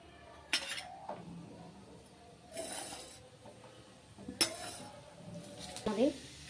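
Spices such as Szechuan pepper, cloves and cumin stirred into hot oil in a pan for Maharashtrian-style aloo matar, with a few brief metal spoon scrapes and clinks over a faint sizzle.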